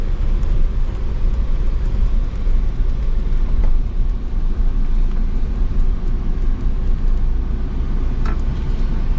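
A car rolls down a steep slope in neutral with the clutch and brake released, giving a steady, loud low rumble of tyres and body noise that runs unbroken throughout, with no speech.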